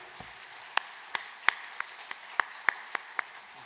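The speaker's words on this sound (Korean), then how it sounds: "목사님께 큰 감사의 박수를 드리도록 하겠습니다" Sparse, scattered applause from a church audience honoring a pastor at a special lecture: about a dozen distinct hand claps spaced unevenly, fairly quiet and roomy, with no speech over them.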